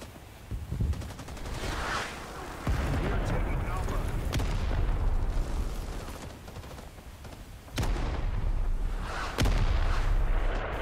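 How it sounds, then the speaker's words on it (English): Artillery fire in the video game Rising Storm 2: Vietnam: heavy booming impacts and rumbling blasts, with sharp loud strikes near the end, mixed with scattered gunfire. "Artillery's on our heads."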